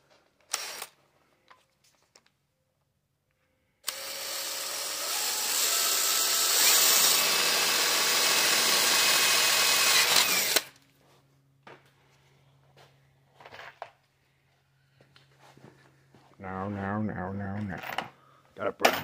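A small power drill with an eighth-inch bit whirs steadily for several seconds into an engine freeze plug, loud and close, then stops; brief clicks and handling noises come before and after.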